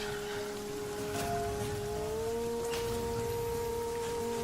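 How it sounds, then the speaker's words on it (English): Steady rain falls in the survival game The Flame in the Flood, a continuous close hiss of drops on surfaces layered with sustained tonal hums from the game's ambient music. "See if that helps the rain go away a bit."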